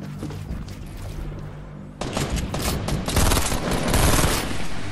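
Shotgun gunfire in Fortnite Battle Royale, a quiet stretch of low mechanical rumble broken by a sudden loud burst of rapid, overlapping blasts that keep pounding near and heavy for the rest of the moment.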